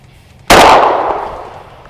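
A Berika Arms SS410 .410 single-shot shotgun fires one sharp, loud blast outdoors at a range, followed by a fading ringing tail.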